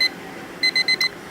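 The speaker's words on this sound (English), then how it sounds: "That's what the timer sounds like when it goes off and you just hit stop." Digital kitchen timer alarm going off, a single beep followed by four quick high-pitched electronic beeps in a rapid cluster, close and clear over quiet room noise.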